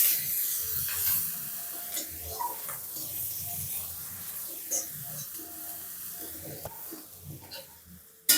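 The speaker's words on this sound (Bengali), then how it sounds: "তো এবারে পেঁয়াজ কুচনো দিয়ে দেবো, কুচনো পেঁয়াজ আর দুটো চেরা কাঁচা লঙ্কা।" Chopped onion and slit green chillies hit hot oil with tempered spices, making a steady, fairly soft hissing sizzle with gentle stirring sweeps throughout and no voices.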